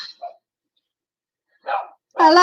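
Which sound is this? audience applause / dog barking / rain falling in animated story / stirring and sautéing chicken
dog barking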